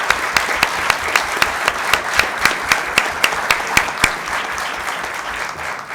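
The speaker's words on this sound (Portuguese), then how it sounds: "a quem peço uma salva de palmas" Audience at a municipal swearing-in ceremony for the Azambuja council applauds the newly elected mayor, sustained steady clapping across the hall that gradually fades.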